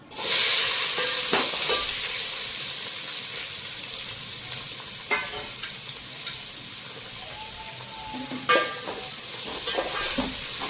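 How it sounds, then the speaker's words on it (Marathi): Chopped onion fries in hot oil with crackling shahjeera seeds in a pan for chicken pulao. It gives a continuous close sizzle, broken by several sharp scrapes of a spoon stirring, with no talking. "कांदा चांगला लाल होईपर्यंत परतवायचा"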